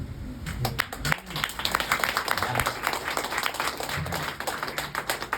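Congregation clapping and applauding during a Christmas church sermon, a steady dense patter of many hands lasting throughout, with some voices mixed in underneath.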